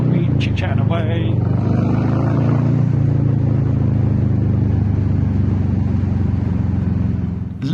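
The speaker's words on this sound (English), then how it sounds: "you've got the sound of the bike" A motorcycle engine drones steadily while riding, a continuous low hum with a brief higher burst at the start, close and loud before cutting off at the end, with a voice talking over it.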